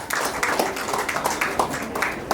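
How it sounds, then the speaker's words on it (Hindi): A small group at a haldi ceremony clapping for Pratiksha and Sunny, a quick, uneven patter of hands with distinct individual claps close by, brief and moderately loud. "प्रतीक्षा और सनी के लिए जोरदार तालियां"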